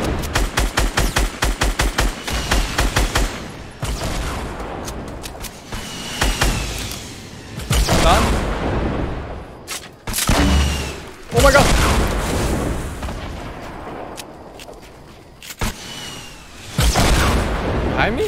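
Fortnite battle: rapid bursts of machine-gun fire open the fight, followed by heavy rocket launcher booms and scattered gunshots, loud and close, with intermittent chatter from players over the action.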